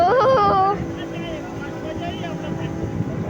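A boat moving on a river just after pushing off from shore, a loud steady engine and water rumble, with a voice speaking over it at the start.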